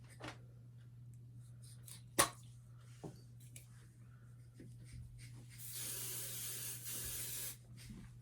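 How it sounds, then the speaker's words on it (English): Hairspray hisses from an aerosol can onto a no-sew craft gnome's fake hair, a quiet steady spray lasting about two seconds after scattered small handling taps and clicks nearby. "I'm going to spray him a little bit."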